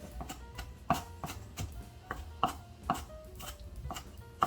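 A knife mincing eggplant on a cutting board in quick, slightly irregular chops. The blows are close and crisp, with a few louder strikes and no talking.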